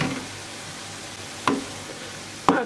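Grated carrots cooking in a pan give off a soft, steady sizzle and low bubbling that holds at moderate level, broken by two sharp knocks, probably a spoon or lid against the pan, near the middle and near the end.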